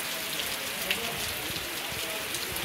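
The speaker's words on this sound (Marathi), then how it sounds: "आम्ही देवळात आलो आणि पाऊस बघा किती चालू झालाय" Heavy rain pours steadily at a temple in the Konkan region during a sunny monsoon shower, a dense continuous hiss of drops drumming on surfaces, close and loud throughout.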